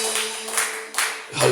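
Close, moderately loud clapping from a church congregation, a few dense bursts of hand claps over a steady hum, fading at the end as another sound enters.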